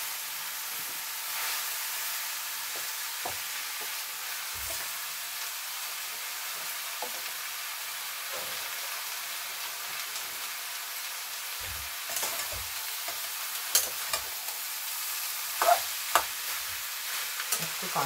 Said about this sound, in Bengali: একটু কাঁচা গন্ধটা দূর করার জন্য একটু নাড়াচাড়া করে নিচ্ছি।